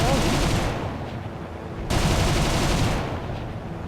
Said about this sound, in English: you see I start shooting pretty early